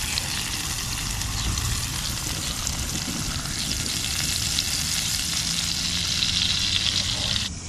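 Wild river trout fries in a pan with a steady, loud hiss and crackle of hot oil that keeps going without a break.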